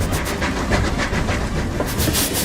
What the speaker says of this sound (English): as befitting the first intercity express locomotive, we're now going to open her up and see what we can do.